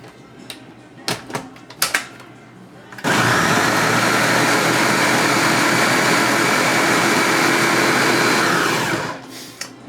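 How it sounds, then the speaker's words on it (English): A blender grinding an avocado, pit included, into a healthy shake: after a few knocks, the motor starts with a loud, steady whir that holds for about six seconds and then winds down. "now that it's starting to really blend, I'm going to turn the speed up, which will pull the rest of that stuff down"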